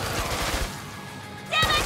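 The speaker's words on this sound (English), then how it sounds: "Machine gun" Rapid machine gun fire in the video game Killing Floor 2, a loud continuous burst of shots mixed with game sounds and a voice.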